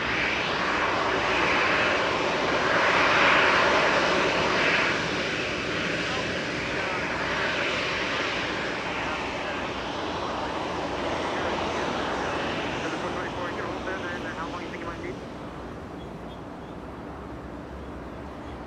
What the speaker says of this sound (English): we are staying with that 777 as it arrives, as it touches down on 24 right